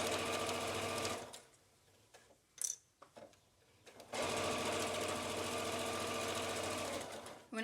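A home sewing machine stitches a seam on a cloth N95 mask cover, a loud steady mechanical whir of rapid needle strokes, pausing for a few clicks and handling noises before running again.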